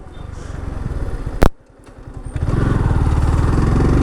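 A Yamaha R15 V4 motorcycle engine drones loudly and close, breaking off with a sharp pop before the revving rhythm builds again into a steady, throbbing pull.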